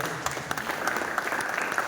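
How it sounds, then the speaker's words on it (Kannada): An audience at a Modicare gathering claps loudly for newcomers, a dense, brisk burst of many hands with sharp individual slaps standing out, steady throughout. "ಇವರು ಜೋರ ಚಪ್ಪಾಳೆ ಇವರಿಗೋಸ್ಕರ."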